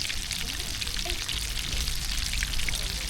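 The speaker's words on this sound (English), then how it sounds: "They're frying up nice, guys." Hot oil crackles and spatters steadily as catfish jalapeño poppers fry, a dense close-up frying hiss with no voices.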